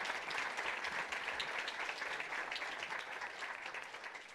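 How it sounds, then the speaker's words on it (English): Conference attendees applaud the panelists at the close of a panel session, with steady, even clapping from a roomful of people that fills the whole stretch without talk. "could I ask you to provide a round of applause and thank the"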